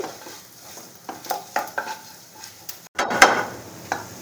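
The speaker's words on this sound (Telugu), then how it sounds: "దగ్గరుండి జాగ్రత్తగా వేపుకోవాలండి మొత్తం ఇట్లా కలుపుకుంటూ" Ingredients being dry-roasted in a pan for Guntur gongura chutney, stirred steadily with repeated light scraping and tapping of the utensil against the pan and a brief louder rustle near the end.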